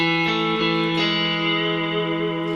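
A sustained electric guitar chord rings out loudly, drenched in reverb and effects, with a shimmering, washy tail.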